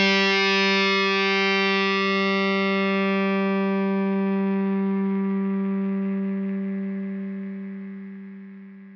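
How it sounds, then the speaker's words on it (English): A single sustained distorted electric guitar note rings steadily for several seconds through a noise gate, then fades out toward the end with a faint trace of hiss before being cut off. "You can hear a little bit of that hiss popping through there right near the end before it cut it off."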